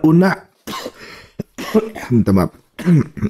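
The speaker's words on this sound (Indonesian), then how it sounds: "Batuk." A person coughs and clears their throat several times in short bursts, close by, with brief pauses between.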